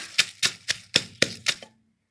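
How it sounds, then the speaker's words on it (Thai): Shrimp paste wrapped in turmeric leaf is pounded with chillies in a mortar: seven sharp, evenly spaced pestle strikes, close and fairly loud, ending in a faint scrape. "ใส่ลงไปเลยค่ะ ประมาณหนึ่งช้อนแกง แล้วก็โขลกเลยนะคะ"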